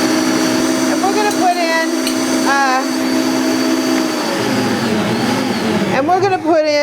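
A KitchenAid Professional 600 or Bosch stand mixer whips a mixture toward soft peaks, its motor giving a loud, steady whir that runs the whole time while a voice speaks over it.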